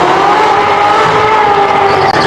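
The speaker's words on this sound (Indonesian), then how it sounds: "Wih, mobil balap." Steady, loud race car engine whine holding a sustained revving tone throughout, continuous and close with no pauses, belonging to a toy race car.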